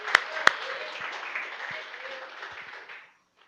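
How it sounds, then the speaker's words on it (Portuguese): A church audience applauds briefly, a few sharp claps standing out before a soft, scattered clapping fades out after about three seconds. "Pode aplaudir."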